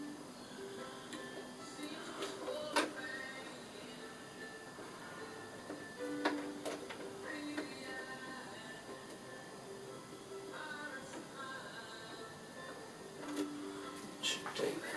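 A sewing machine running a zigzag stitch on a pool blanket cover, faint rapid mechanical ticking and whirring with occasional clacks, quiet and steady throughout.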